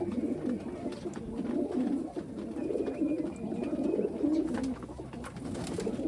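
A flock of Giribaj pigeons coos steadily at the Sonamasjid pigeon farm in Rajshahi, their low rolling calls overlapping in a dense, even chorus close by for several seconds.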